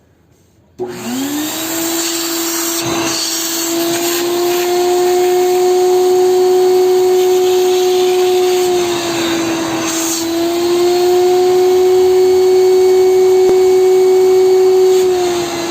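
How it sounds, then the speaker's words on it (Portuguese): Upholstery extractor machine sucking dirty liquid from a car seat, a loud, continuous vacuum roar with a steady tonal whine, its pitch dipping briefly midway as the nozzle moves, with no talk. "Vamos ver se nesse ângulo vai aparecer bem a sujeira saindo aqui pelo bico da extratora"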